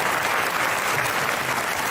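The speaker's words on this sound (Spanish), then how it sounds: "quizá un aplauso para Ketty Garat" An audience bursts into applause, a dense and steady wash of many hands clapping at once. It holds at an even, fairly loud level for its whole short span, with no voices standing out.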